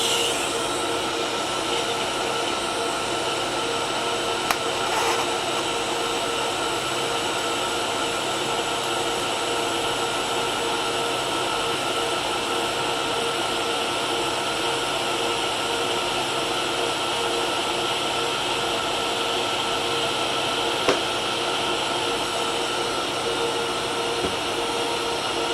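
TIG welding with an R Tech TIG 160FPP at full pedal, 80 amps, pulsing 1.5 times per second, a steady close electric hiss and hum running unbroken with a couple of faint clicks.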